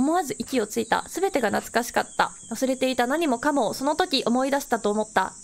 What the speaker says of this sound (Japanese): けたたましいセミの声